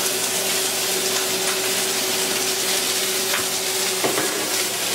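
Onions stir-fried in a hot pan alongside seared spare ribs give a constant loud sizzle with a steady hum beneath, one brief clink near the end, nobody talking.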